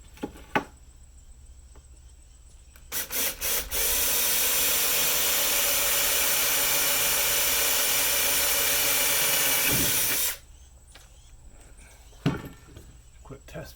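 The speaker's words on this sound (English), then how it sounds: "So this is what we're going to drill our pilot holes through the aluminum for." A power drill bores pilot holes through aluminum while mounting a solar panel on a Jeep XJ. A few short clicks lead into one loud, steady, high-pitched whine that runs about seven seconds, then cuts off, followed by quieter handling knocks.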